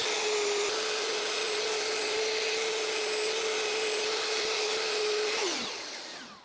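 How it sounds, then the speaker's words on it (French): A belt sander whirs loudly and steadily against wood, a constant abrasive rasp with a tonal motor hum, then winds down at the end. "la ponceuse à ruban c'est pas terrible"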